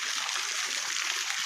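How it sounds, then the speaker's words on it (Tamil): Water running down from above like a spring, a steady, bright rushing flow with no pauses, heard close and alone. "இது மோட்டர்லேருந்து வரல, மேலேருந்து அடிஞ்சு வர தண்ணி"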